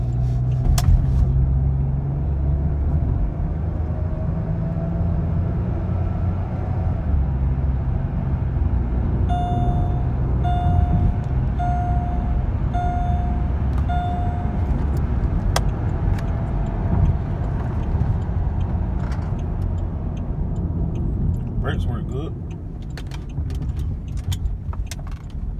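A 2006 Pontiac G6 that will not pass emissions idles with a loud, steady low engine rumble, a repeating electronic chime partway through and some jangling and clicks near the end, no voices.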